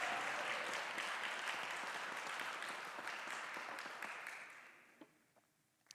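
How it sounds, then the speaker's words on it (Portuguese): A church congregation applauds the Lord together, a dense, steady wash of many hands clapping that fades out toward the end, with a few last isolated claps trailing off. "Você pode aplaudir ao Senhor essa noite?"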